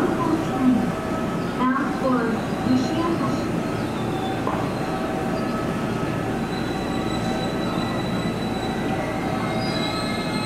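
A local train on the JR Kobe Line pulls through Amagasaki station during the evening rush, its wheels squealing over a constant rolling rumble. Station announcements sound over the noise.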